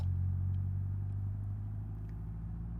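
A weak Covet 1.5 litre straight-four engine at full throttle in a Gavril Spitfire truck in BeamNG, a steady droning hum that holds constant and loud throughout with no talking.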